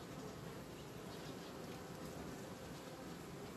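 Bees on a hive frame of a young colony with a red queen give off a steady, dense buzzing hum, soft and unbroken throughout.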